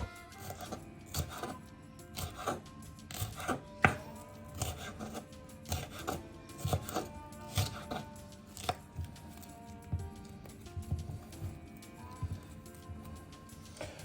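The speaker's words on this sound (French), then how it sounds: "On commence par couper les fruits, les oignons et l'ail en petits morceaux" Fruit, onions and garlic chopped into small pieces on a cutting board for a yellow curry, a steady run of quick, light knife taps, close and moderately loud, continuing evenly throughout.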